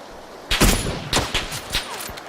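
Gunfire in PUBG (Battlegrounds): a few sharp, loud cracks spaced irregularly over a couple of seconds, each shot standing out clearly, with no talking.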